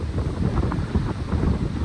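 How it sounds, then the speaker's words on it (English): Strong wind blowing sand across a beach at Torrox Costa, a loud constant roar buffeting the microphone, with gusty surges and no voices. "The wind's horrendous."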